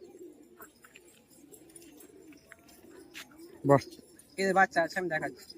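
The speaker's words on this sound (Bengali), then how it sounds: "এই হচ্ছে দাদার খোপ অনেকটাই পায়রা আছে" Giribaz pigeons in a rooftop loft coo in a few low, throaty bursts near the end, after a stretch of soft background noise with faint bird sounds.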